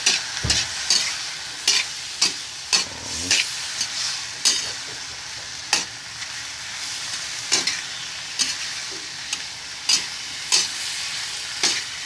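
Dried fish frying in a pan while being stirred, with a constant bright sizzle broken by repeated sharp scrapes of the utensil at an irregular rhythm, close and clear, no talking.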